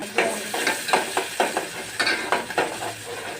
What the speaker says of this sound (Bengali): আমি একটা কড়াইতে এখন আমি কিছু সয়াবিন তেল দিয়ে দিলাম